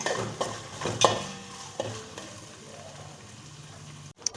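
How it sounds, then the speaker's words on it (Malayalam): Bitter gourd sautés in a pan for a carrot, bitter gourd and raw mango pickle, with a spoon scraping and stirring through a steady low sizzle, a few sharper knocks early on, then quieter frying. "പാവയ്ക്കാണ് ചേർത്ത് കൊടുക്കേണ്ടത് നല്ലപോലെ വഴന്ന് വരട്ടെ"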